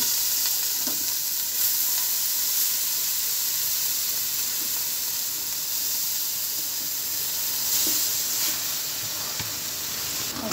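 Rice stirred through hot oil in a pan gives a steady hissing sizzle, broken by a few soft scrapes and knocks of the spoon against the pan.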